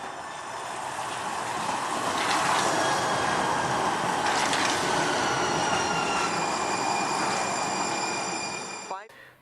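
A Portland MAX Type 4 light rail train car runs along the track, with a steady loud rumble and high wheel and motor whines that stay even for several seconds before cutting off abruptly.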